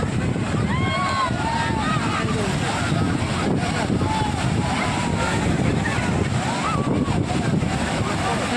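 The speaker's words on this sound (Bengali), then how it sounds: "আজকে ঢেউটা একটু বেশি আছে।" Sea waves on a beach, a constant loud surf wash with wind buffeting the microphone, and people talking and calling over it.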